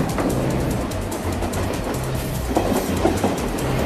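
Train in Mumbai rumbling along the rails, a dense continuous roar with clickety-clack of wheels over joints, loud and close, no talk.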